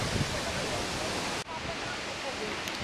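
Dabhosa waterfall near Palghar, Mumbai, pours out a steady, dense roar of rushing water that fills the whole scene, with a brief cut midway and faint voices under it.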